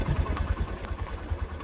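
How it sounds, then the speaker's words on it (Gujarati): A motorcycle engine idles steadily after being started, a low rumbling putter with a regular pulse filling the short stretch, fairly close and continuous with no voices over it. "પેલા બાઇક ચાલુ કરી દો."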